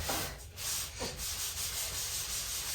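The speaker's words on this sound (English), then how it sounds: "lightly wet sand this and then add my second coat" Wet sanding of a drywall repair in a bathroom renovation, a continuous close scraping rub with rhythmic strokes, no voices.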